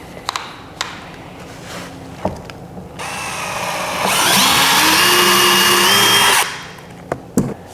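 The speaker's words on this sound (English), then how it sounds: "and just drill out that hole" A power drill with a 1/8 inch bit whirs in short bursts, then runs steadily and loudly for a couple of seconds while boring out a hole for a bow motorization kit, before stopping with a few clicks.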